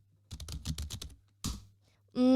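A burst of rapid typing on a computer keyboard, roughly a dozen quick key clicks followed by a single louder tap, then a sustained electronic tone at the end.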